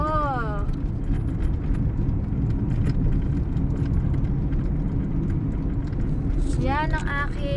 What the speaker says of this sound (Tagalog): Maingay yung mga barya.